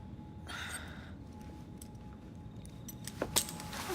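Keys jangle in the game Assassin's Creed Syndicate, a brief metallic rattle standing out over a steady low ambient rumble, with a couple of sharper clinks near the end.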